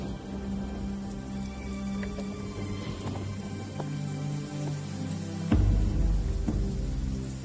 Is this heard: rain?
yes